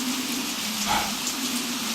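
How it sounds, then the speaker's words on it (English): Steady rain falls outdoors, a constant broad hiss of drops hitting surfaces with no voices over it. "It's raining outside"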